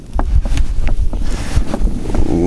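Strong wind buffets the microphone in loud, continuous gusts outdoors by a cooking fire, with low rumbling and scattered knocks underneath.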